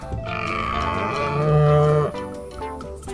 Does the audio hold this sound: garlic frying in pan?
no